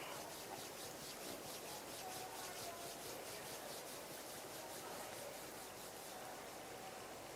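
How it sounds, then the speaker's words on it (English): Palms rub gently together at chest level, making a continuous soft, even swishing hiss that stays close and steady throughout, with no speech. "bring the palms of your hands together at chest level. Rub them gently against each other."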